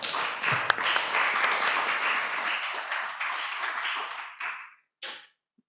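A church congregation at a year-end service in Gianyar claps together in a dense, lively burst that thins into a few scattered claps and stops.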